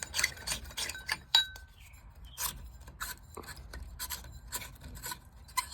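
Glass light bulb twisted out of and back into a socket on an antique brass Harbor Breeze Cheshire 42-inch ceiling fan, giving a series of faint, short scraping rasps and light clinks in quiet room tone.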